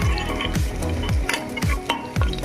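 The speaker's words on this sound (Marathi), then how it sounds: "लाल झाल्यानंतर मी इथं कांदा टाकून घेतला" Onion sizzles loudly in hot oil with cumin, chopped ginger and garlic, close up, with steady frying crackle and rhythmic stirring scrapes about every half second.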